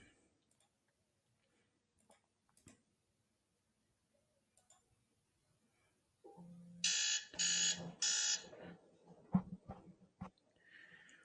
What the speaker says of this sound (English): Okay, that alarm was for me.